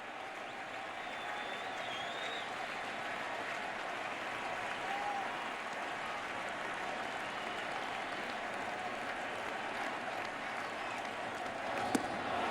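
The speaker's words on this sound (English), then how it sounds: "Crowd here trying to show some signs of life." Crowd noise at a 2017 NLDS playoff baseball game between the Cubs and Nationals, a steady distant wash of cheering and clapping throughout, with a commentator talking over it.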